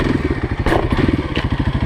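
A Kawasaki KLX 351 dirt bike engine chugs in a steady, loud, rhythmic idle-like pulse close by while the rear spins out during a turn, with a couple of sharp clattering scrapes over the thumping beat.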